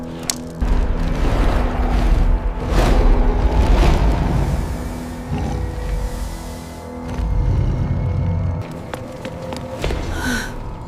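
Heavy booming thuds, the footsteps of a giant in a Jack and the Beanstalk tale, land in a slow series of deep, loud impacts with rumbling low-end weight and no voices.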